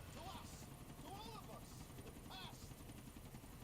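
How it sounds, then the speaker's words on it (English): A police helicopter in the video game GTA4 drones steadily throughout with a rhythmic rotor chop, moderately loud beneath overlapping character voices. "Yeah, police helicopter, good cover."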